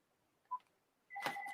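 A house landline phone rings faintly and briefly: a short electronic blip, then a steady two-tone ring begins and holds to the end in a quiet room.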